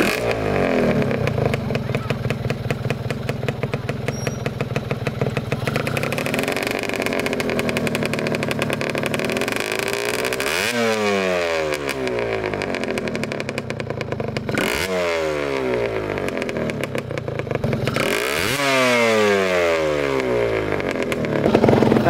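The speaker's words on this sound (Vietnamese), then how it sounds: "bây giờ sẽ nổ máy cho anh em nghe" A modified Honda Nova Dash motorcycle engine runs up close, idling roughly before being revved hard three times, each rev rising sharply then falling back to a clattery idle.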